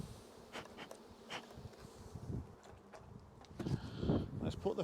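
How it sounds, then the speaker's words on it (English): Honey bees buzz around the edge of a hive, a soft droning hum with individual insects passing close, faint overall with some low rustling and handling noise growing louder toward the end. "I'm trying to get all the bees off the edge, so when I put the feeder on,"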